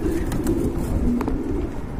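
Pigeons cooing from a well-matched breeding pair, with a low, steady, fairly close murmur that runs through the whole moment alongside a few brief sharper sounds.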